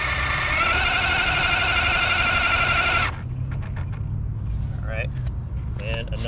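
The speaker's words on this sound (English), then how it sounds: "All right, we'll do another burnout." A Traxxas Drag Slash Chevrolet C10 RC drag car does a low-RPM burnout, giving a loud, steady high-pitched electric motor whine for about three seconds that cuts off abruptly, followed by faint ambient noise.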